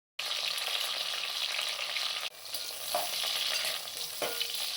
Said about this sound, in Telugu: కరివేపాకు వేసుకున్న తర్వాత ఉల్లిపాయ, పచ్చిమిర్చి వేసుకొని బాగా తిప్పుకోవాలి.